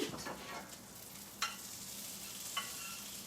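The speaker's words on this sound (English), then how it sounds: "Why is that still frying?" Bacon sizzles steadily in a pan taken off the heat, a soft crackling hiss with two sharper pops standing out, fairly quiet and without talk.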